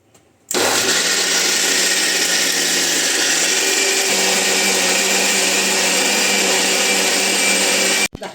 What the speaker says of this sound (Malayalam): ഇനി നമുക്ക് നമ്മുടെ മിക്സി അരച്ചെടുക്കാം.